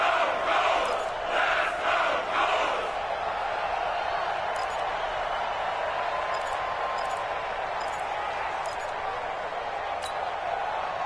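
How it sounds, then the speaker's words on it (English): Crowd noise roars through a stadium in an American football video game on PS4, a steady loud swell of cheering that builds through a big play, with faint commentary-like voices over it. "the crowd getting into it as we come up on a big 3rd down"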